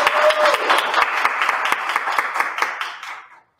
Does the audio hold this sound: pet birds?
no